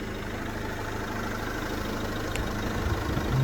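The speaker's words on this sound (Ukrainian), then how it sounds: "Ще зараз мотор працює, я зараз покажу мотора" A 2018 Renault Master van engine (125 kW) idles with a low steady rumble, slightly rising in level near the end.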